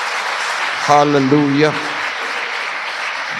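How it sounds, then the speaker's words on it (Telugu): A church congregation claps steadily in praise of Jesus, an even, continuous patter of many hands, while one voice briefly calls out over it. "నమ్మిన వారు ఆ స్థితికి చేర్చే యేసయ్యకు చప్పట్లు కొడుతూ స్తోత్రం చేయాలి"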